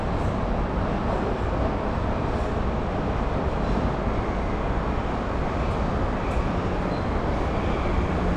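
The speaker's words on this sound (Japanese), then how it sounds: "The local train bound for Asakusa is arriving at track 2." A Tokyo Metro Ginza Line subway train pulls into the underground platform at Tameike-sanno Station, a steady, loud rumble and roar of wheels and carriages filling the space throughout.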